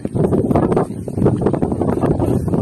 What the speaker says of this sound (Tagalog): Lumakas naman yung hangin.